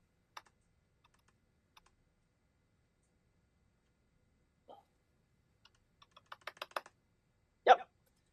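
A pen tapping on a touchscreen device, sparse faint clicks and taps spread out, then a quick cluster of light taps followed by one louder knock, with no talking.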